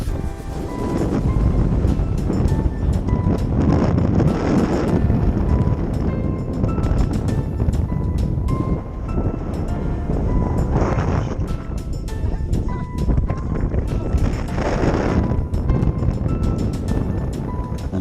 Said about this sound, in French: en haut, le vent soufflait d'une extrême puissance